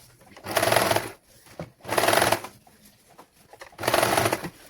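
A sewing machine stitches a baby langot in three loud, steady runs of about a second each, separated by brief quiet pauses, close by.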